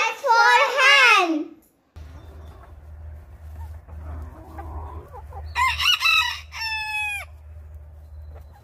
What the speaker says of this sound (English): H for hen. H for hen.